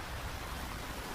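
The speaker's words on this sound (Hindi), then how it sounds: "बारिश बहुत तेज थी।" Heavy rain pours down steadily in a forest, a dense, continuous hiss of falling water with no pauses, loud and close throughout.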